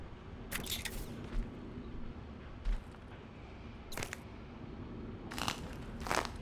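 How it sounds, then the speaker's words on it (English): Bone crunching in the video game Prey (2017): several brief crackling, crunching bursts at irregular intervals over a low steady game hum, with a couple of soft thuds, moderately loud and without speech. "Is it the bone crunching sounds that kind of give it away?"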